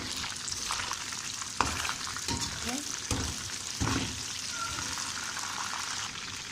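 Chicken fries in a pan with a steady loud sizzle and crackle, broken by a few sharp scraping knocks of stirring, with a voice briefly speaking under it.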